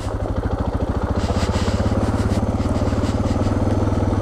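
Suzuki DR650SE dual sport motorcycle, a 325-pound bike, its single-cylinder engine thumping in a steady, low rhythmic pulse while riding, loud and close with wind rush over it.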